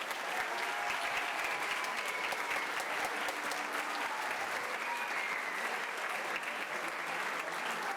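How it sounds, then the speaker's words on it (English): A fall concert crowd applauds the symphonic band and its director with a steady, even wash of clapping. It is heard from somewhat far off and stays moderately quiet from start to finish. "How about another round of applause for the symphonic band and Mr."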